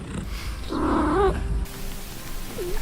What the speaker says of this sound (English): Most cats also have their own activation noise, which is a real treat to experience.